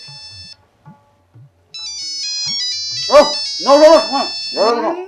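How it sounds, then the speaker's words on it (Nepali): A mobile phone ringtone for an incoming call rings out as a high, bright electronic melody of sustained tones, repeating over a few seconds while a voice overlaps it, with a short lower beep heard near the start. "कसको फोन आयो"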